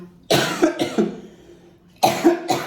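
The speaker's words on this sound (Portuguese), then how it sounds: "Entendam minha tosse aqui" A person coughs several times in two bursts, harsh and close, with a quiet pause between them.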